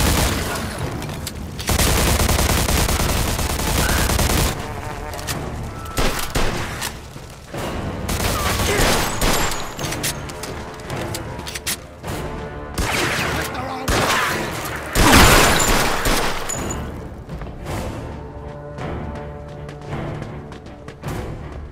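Sustained gunfire in the video game Mafia II: Definitive Edition, loud dense bursts and fusillades of shots with booms and crashes, under shouting voices throughout.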